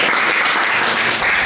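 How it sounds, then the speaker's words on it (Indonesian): Classroom applause from students in a lesson, a brief dense burst of clapping that stays loud and even throughout. "Oke, tepuk tangan dulu untuk kalian semua."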